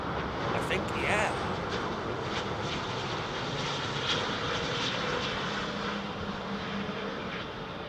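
A China jet airliner, an Airbus A350, takes off at Heathrow Airport at night, its engines a loud, steady broadband roar that eases slightly toward the end.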